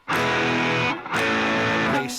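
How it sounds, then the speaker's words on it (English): An electric guitar runs through a thick, woolly distortion pedal with the gain turned up, ringing out two loud sustained notes, the second following a brief break. "Nice thick woolly distortion there."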